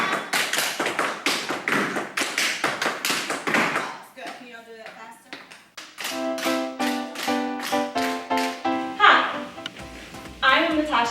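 Tap dancing in a university dance program, with rapid rhythmic clicks and stomps of metal-plated shoes on a hard floor, some rapid shuffles, played over music.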